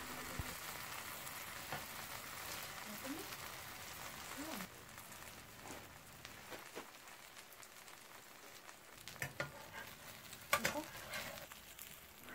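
Korean cabbage pancake sizzles in oil in a pan, a faint steady crackle with a few scrapes and clinks near the end, no talking.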